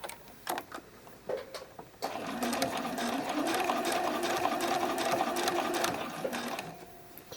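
A sewing machine stitches the cradles of an iris bralette, running steadily for about four seconds at close range after a few brief handling clicks.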